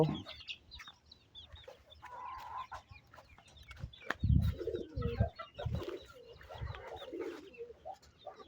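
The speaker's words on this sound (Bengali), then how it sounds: "আমার এই চিড়িয়াখানার কিউট প্রাণী সিল্কি মোরগ" Silkie chickens kept in a small home zoo cluck in short, irregular bursts at moderate distance, mixed with other birds calling in the background.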